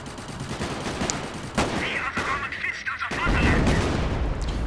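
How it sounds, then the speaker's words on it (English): Artillery and rifle fire in Company of Heroes with a World War I mod pound on in a dense, continuous barrage, with sharp cracks over low rumbling blasts that swell louder toward the end. "Artillery's firing, I'm good."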